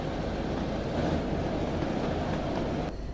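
Inside a three-coach Class 101 first-generation diesel multiple unit in Train Sim 2021, a steady low engine rumble and rolling drone continues evenly throughout, moderately quiet, with no talk.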